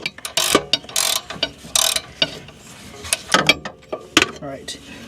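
A ratchet clicks in fast bursts while tightening the nut on a rear wheel bearing of a 1988–2001 Mercedes-Benz R129, with short pauses between the runs of clicks. It is close and fairly loud, and a few small knocks and handling noises mix in.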